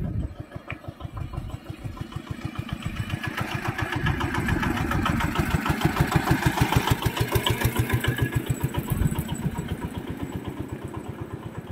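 A motorcycle or similar mid-sized engine runs close by on a busy roadside beside floodwater fishing nets, its steady pulsing putter swelling louder toward the middle and easing off near the end.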